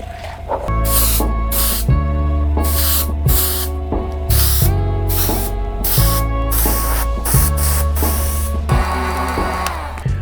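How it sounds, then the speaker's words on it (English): Almighty sealant is sprayed from a can onto custom-painted Ultra Boost sneakers in short repeated bursts, each a loud close hiss, separated by brief pauses. "spray it with some almighty sealant"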